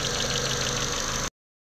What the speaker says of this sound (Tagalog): So, gumana na po yung pan.